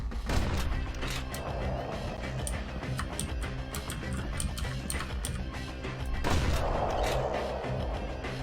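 Musket shots crack out on a marksman shooting course in Bastion, a couple of sharp booming reports spaced several seconds apart over busy game sound and music.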